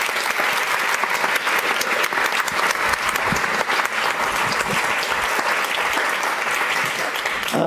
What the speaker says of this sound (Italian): a very warm applause for George van Houten